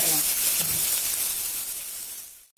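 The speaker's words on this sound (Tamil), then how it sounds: "இப்ப இதை வறுக்கலாம்." Curry leaves, sliced shallots and slit green chilies fry in a pan with a steady, close sizzling hiss that eases off slightly before cutting out abruptly at the end.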